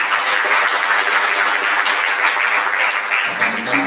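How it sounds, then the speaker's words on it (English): An audience at a mental wellness and counselling breakfast conference gives a round of applause, dense continuous clapping held at a steady loud level for the whole stretch. "Round of applause."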